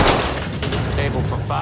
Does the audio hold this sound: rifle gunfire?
yes